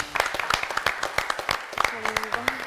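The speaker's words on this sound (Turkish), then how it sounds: "Önce alkışlayıp sonra alkışı geri çekmek" Studio audience applause at a television quiz show, a brisk burst of scattered hand claps at close range, with voices talking over it.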